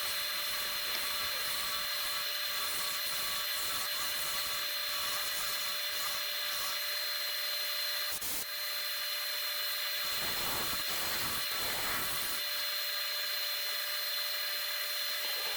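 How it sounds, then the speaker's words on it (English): A bowl gouge cuts wood on a lathe, a continuous bright hiss and whir with a steady motor tone beneath, brief louder scraping bursts partway through, loud and close with no speech. "See how fast that gouge just goes through that wood?"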